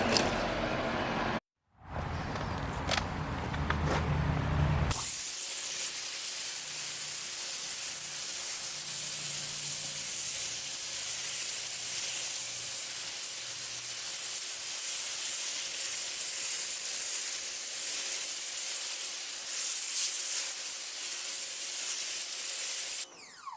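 A PowerPlay Spyder 2030 psi pressure washer sprays steadily through a 15-degree nozzle on a driveway, a loud continuous hiss with an engine hum beneath after a brief burst of motor noise.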